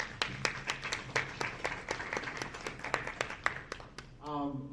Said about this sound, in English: So I think she deserves a round of applause.